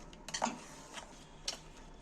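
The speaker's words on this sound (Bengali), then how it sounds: "এইবার আমি ভালো করে এটা মিশিয়ে নেব" Spoon scraping and clinking against a bowl while yogurt and spice mixture is stirred, a few soft, scattered contacts, close but quiet with no talking.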